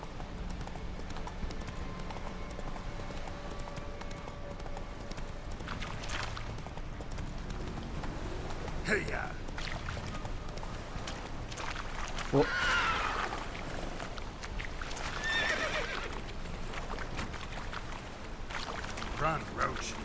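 A horse gallops through The Witcher 3 with steady, rhythmic hoofbeats close by and a brief whinny, while a voice talks over the running hooves.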